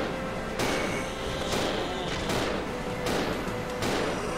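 Gunfire in Resident Evil 0, with several sharp shots spaced about a second apart, each a broad crack over a low rumble of game ambience.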